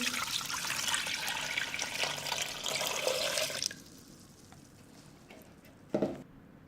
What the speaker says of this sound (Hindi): अब हम 1 लीटर पानी इसके अंदर डाल देंगे।